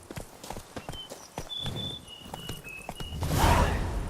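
Roach, the horse in The Witcher 3, gallops with a quick, steady clatter of hooves close by, building to a louder rush at the end, with no talking.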